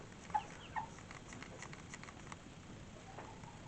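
Brown pullet chicks kept in a flock alongside Cornish cross meat chicks, giving two short, sharp clucks near the start, with soft peeping and chatter continuing faintly over a steady background hum.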